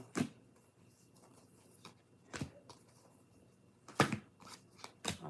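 Cards for a tarot reading are shuffled close by in a few short, scattered bursts of riffling and flicking, with quiet handling and rustling between them and no talk.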